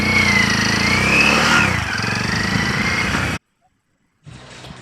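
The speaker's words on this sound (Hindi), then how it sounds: "बहुत दिनों के बाद हम गए थे भाई बाइक से खेत पे" A motorcycle engine drones loudly and close while riding to a farm field in a village, with the pitch shifting as it accelerates and eases off, then cutting to silence and a quieter engine hum.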